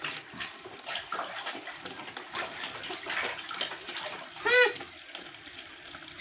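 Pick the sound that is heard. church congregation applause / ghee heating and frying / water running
water running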